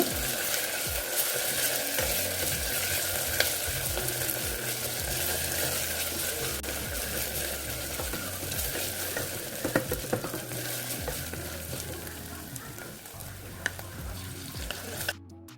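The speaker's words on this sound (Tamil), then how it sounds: "இப்போ நான் இதில் இஞ்சி பூண்டு விழுது வந்து சேர்த்துருக்கேன். இதையும் சேர்த்து நல்லா இப்போ நம்ம வதக்கிக்கலாம் பச்சை வாசனை போகிற அளவுக்கு" Ginger garlic paste sautéing in a pan for egg pulao, a steady close sizzle with scraping and stirring strokes and occasional clicks of a spoon against the pan throughout.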